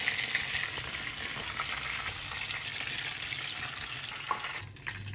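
Food sizzles steadily in a frying pan while tongs turn the pieces, a continuous bright crackle and hiss with occasional soft scrapes, close and without any talk.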